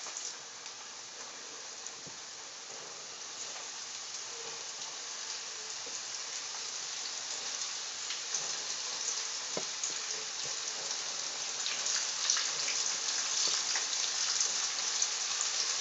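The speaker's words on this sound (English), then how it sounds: "Now you take the top off and you just start adding pieces to the grease." Turkey chops frying in hot grease, a steady crackling sizzle that grows slightly louder over time, with occasional sharp pops and no talking.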